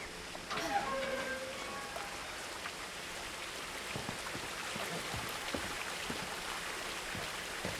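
Steady rain and flowing water patter and wash continuously as game ambience in What Remains of Edith Finch, with a voice speaking over the soft, even downpour.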